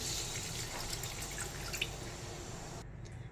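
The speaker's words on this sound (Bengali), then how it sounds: "সেদ্ধ হয়ে গেছে এবার জল দিয়ে দিলাম" Water poured into a pan of hilsa fish curry with potato and eggplant, a quiet splashing trickle that stops abruptly near the end, heard alone.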